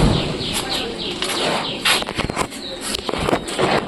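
Pigeons newly brought to a loft, with soft cooing and bursts of wing flapping close by, broken by scuffling movement and a few brief louder flaps, with no talk.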